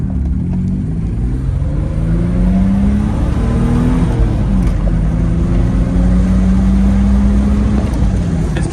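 A Mitsubishi Pajero engine revs hard and holds near the limiter, a loud, steady droning roar with slight pitch wavers, close by and with no talking.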